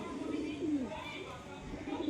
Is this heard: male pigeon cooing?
yes